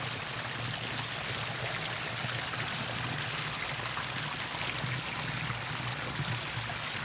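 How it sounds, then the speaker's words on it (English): A shallow stream in a park, where the water speeds up into turbulence, makes a steady, close, broadband rush and gurgle that holds unbroken throughout with no voices. "where the stream suddenly becomes a lot shallower, the water has to travel faster, which it does naturally. So it speeds up into the turbulence"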